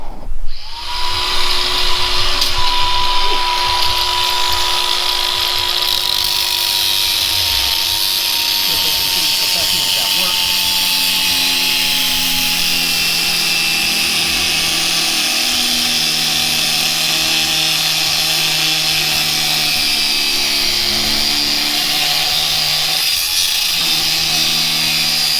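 A power tool cuts through a stem during air ride work on a 1972 Chevelle wagon, a loud high-pitched whine sustained close-up for the whole stretch, its pitch sagging slightly as it bites, with no talk over it.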